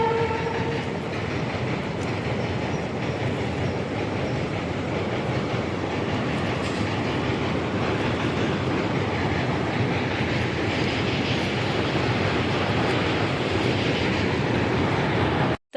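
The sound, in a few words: train passing over a railway bridge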